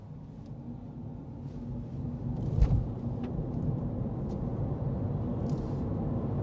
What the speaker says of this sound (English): Well, we're accelerating.